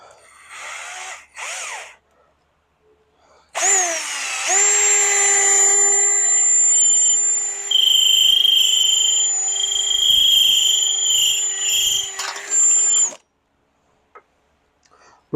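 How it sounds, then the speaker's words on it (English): A power drill on a car door whines loudly for roughly ten seconds while drilling out a fastener in a door window repair, a high steady tone that rises and shifts under load, with short bursts of speech before it starts. "See if we can drill this one out."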